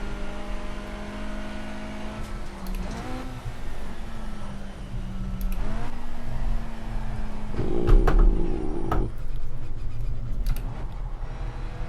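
BMW 1 Series M Coupe engine in the racing game Project Cars, droning and climbing in pitch through several gear shifts, with revs rising sharply toward the end.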